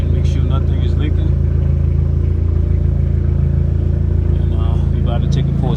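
Audi A4 engine idling steadily after a Walbro 450 fuel pump install, a close, continuous low hum throughout, with a person talking over it.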